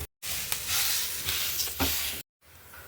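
Rice roti (akki rotti) dough laid onto a hot tava, giving a steady broad sizzle and hiss that swells and dips over a few seconds, close and alone with no talking.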